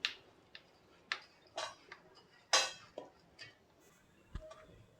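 A spoon clinks and taps against a bowl while mixing masvadi filling of besan masala with half a spoon of salt, a series of sharp, irregular ticks and scrapes, close and fairly quiet, with no talk.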